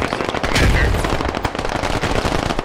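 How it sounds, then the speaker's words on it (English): Rapid bursts of automatic gunfire, including AKs, from the video game Squad, loud and sustained with sharp cracking shots over a dense background. "Where the heck is all that gunfire?"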